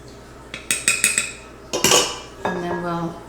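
Dry muffin mix of flour, pink Himalayan salt, baking soda and cinnamon stirred in a bowl, a run of close metallic clinks and scrapes of utensil against dish, then a longer scraping stir.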